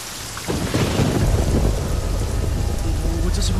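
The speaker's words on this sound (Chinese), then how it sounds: "这瓢泼大雨" Heavy, pouring rain beats down steadily on a remote mountain hillside in a thunderstorm, a loud continuous broadband roar with low rumbling underneath that swells after a brief quieter start.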